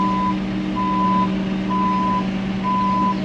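A vehicle maneuvering a tree in reverse at a garden build, its reversing alarm giving four evenly spaced steady beeps over a loud low engine rumble, close by.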